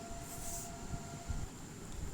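A train in the horror video game Choo Choo Charles rolls along with a steady, low mechanical rumble and rattle, with faint higher hums above and no talking.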